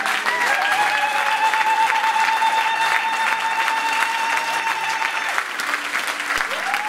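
A church congregation applauding the Lord: sustained, dense clapping from a large crowd with a few cheers, continuing evenly throughout, with a sustained tone sounding underneath.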